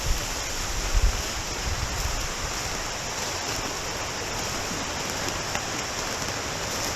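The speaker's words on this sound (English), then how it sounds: "back down to the creek and under the waterfall" A creek waterfall pours in a steady, full roar, the dense broadband rush filling the scene close by, with a few faint knocks near the start and no talking.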